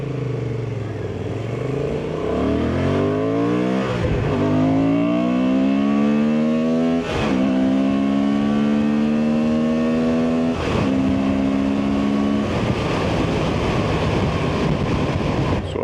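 A Honda Transalp 750 motorcycle accelerates hard through the gears, engine note climbing in pitch with each gear and dropping at four quick shifts, loud and close with steady wind rush and no talking.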